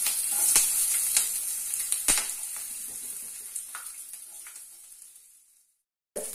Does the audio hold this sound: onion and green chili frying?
yes